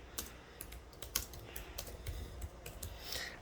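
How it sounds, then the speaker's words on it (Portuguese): A sentence typed on a computer keyboard, a quick irregular run of crisp key clicks over about three seconds, close and moderately loud with no talk. "Vou digitar essa frase aqui."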